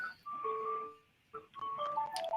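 A faint electronic alarm plays a tinkling ice-cream-truck-style tune in short melodic phrases, with a brief pause partway through, sounding thin and somewhat distant.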